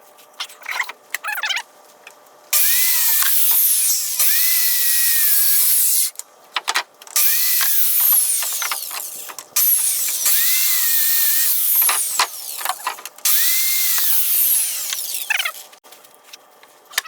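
A power saw cuts wooden pieces for deck steps at a farm, in several loud, sustained bursts separated by short pauses and rough handling noises.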